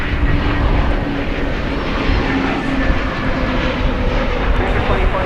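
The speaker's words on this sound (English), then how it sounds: "A321 Neo coming in from Palm Springs just there." Airbus A321neo airliner landing at DFW airport, a steady broadband jet roar that holds loud and continuous throughout with no break.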